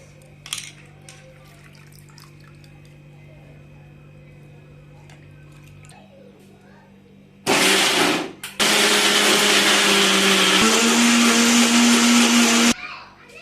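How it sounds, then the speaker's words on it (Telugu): A mixer grinder blends raw coconut in a mixie jar: after a quiet stretch with faint sounds, a loud close whirring roar starts, stops briefly, then runs steadily for several seconds before cutting off. "వాష్ చేసుకున్న తర్వాత మిక్సీ జార్లోకి వేసుకున్నామండి"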